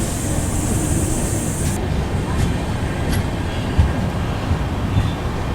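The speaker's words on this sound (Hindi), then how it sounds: "अपने शेड्यूल टाइम से 1 घंटे लेट अपनी गाड़ी आ चुकी है पाकाला जंक्शन रेलवे स्टेशन" The Pune Kanyakumari Express rolls into Pakala Junction station with a loud, continuous rumble of wheels and carriages, with a high hiss fading early and a few clanks and thumps.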